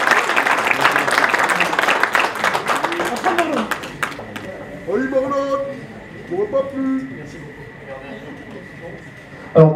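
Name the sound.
applause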